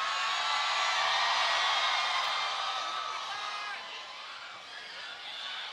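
Sustained cheering and screaming from a packed Los Angeles concert audience, loud at first and then easing slightly, a broad, continuous wash of voices with scattered whoops and no distinct talk.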